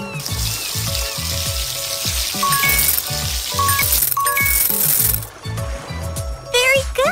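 Water hisses steadily while a cartoon character's hair is rinsed in a kids' spa and salon video game, a bright spraying wash over bouncy looping game music that cuts off abruptly before a final chime.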